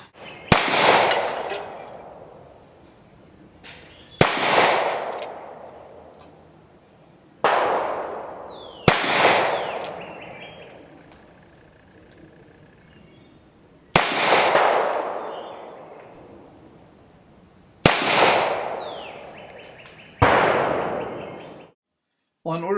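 Sharp, loud gunshots from a well-tuned Colt Single Action Army revolver, six spaced reports with long ringing decays between them, heard alone without talk.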